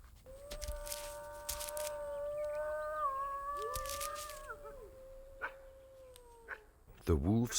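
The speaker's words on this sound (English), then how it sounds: "The wolf's howl is as spellbinding as its gaze, and remains enigmatic." A wolf howls in long, wavering tones that rise and bend, with several overlapping howls blending together over outdoor background noise, while a voice speaks intermittently.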